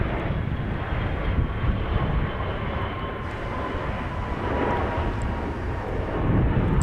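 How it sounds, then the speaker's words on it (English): A business jet lands at Dallas Love Field, its engine roar steady and loud, swelling slightly near the end, with no talk over it. "here comes a plane. Let's unlock this and watch as this jet lands."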